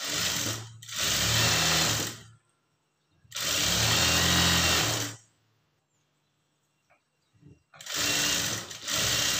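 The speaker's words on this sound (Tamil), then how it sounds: "லைனிங் கிளாத்தை திருப்பிட்டு மேலே வந்து தையல் போட்டுக்குங்க." A sewing machine stitches blouse lining cloth in three loud bursts of steady running, separated by short pauses with faint handling sounds.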